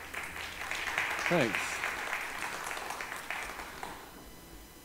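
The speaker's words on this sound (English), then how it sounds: "So that will be the only clapping of the evening" An audience applauds at an evening church service of meditation and song, with steady, moderately loud clapping from a roomful of people filling the whole stretch and a brief spoken word of thanks near the start.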